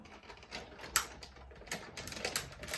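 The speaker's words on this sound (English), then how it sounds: "you may need to do a couple of runs through the die cutting machine to get a clean pass through" A die cutting machine rolls a cutting die through for a background cut, making a faint close mechanical whir with irregular clicking and ratcheting bursts, no voices.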